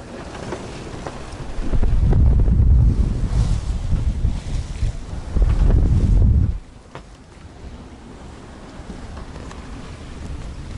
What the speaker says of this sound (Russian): Так, не очень спокойное море.